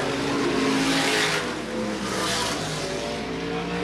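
Supermodified race cars roar around Sandusky Speedway in a 1985 race, a dense, loud engine drone with rising and falling passes and a faint tire squeal, heard from trackside.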